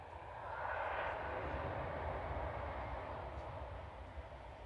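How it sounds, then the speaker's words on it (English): An EasyJet airliner from Belfast touches down at Manchester Airport, a distant steady engine roar that swells briefly and then holds faint and even, with no talk over it. "EasyJet from Belfast just touching down with flight 712"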